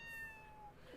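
A kitten gives a brief, faint meow against a quiet room tone, short and close with nothing else going on.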